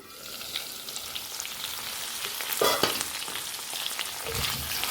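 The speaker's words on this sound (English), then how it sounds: "Cover and cook for a couple of minutes on low heat." Potatoes and cabbage cook in a covered pan on low heat for aloo patta gobhi, giving a steady soft frying sizzle throughout with a few brief louder crackles near the middle and end.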